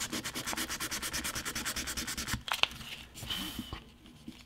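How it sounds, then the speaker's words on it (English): Cast Star-Lord helmet kit with hardened filler being sanded by hand, a steady rhythmic back-and-forth rasp of about twenty close strokes, then a pause with a few scuffs and light handling noises. "It's already rock solid. I can sand it down."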